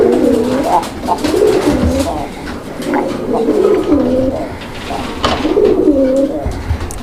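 A pair of Indian Bombay pigeons cooing up close in repeated rolling phrases, with a voice and background chatter underneath.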